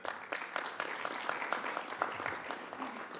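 Audience applause at a UN General Assembly event on loss and damage finance, a steady patter of many hands clapping at moderate volume for a few seconds, with no talking over it.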